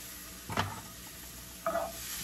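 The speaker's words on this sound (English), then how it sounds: "And just give that a stir." A spoon scrapes twice through mushrooms with wine and thyme in a pan over a soft steady sizzle, two brief close strokes about a second apart.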